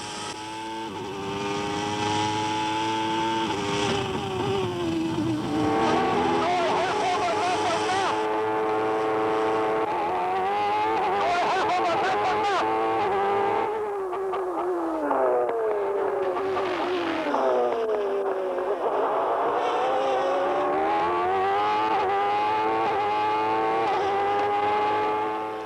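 A McLaren Formula One race car laps a circuit during a session, its engine note climbing and falling through gear changes, loud and continuous, with the pitch sweeping as it passes through corners.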